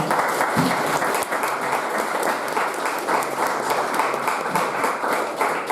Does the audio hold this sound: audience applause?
yes